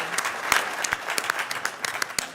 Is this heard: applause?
yes